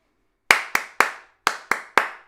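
Six sharp hand claps in an uneven rhythmic pattern, two quick pairs with a gap between them, each ringing briefly in a room, loud and close with no talking.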